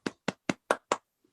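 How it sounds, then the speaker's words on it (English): Contestants at a science-communication competition final give five slow, evenly spaced claps, close and crisp, each one ringing briefly before the next, with no voices over them. "the other contestants are clapping"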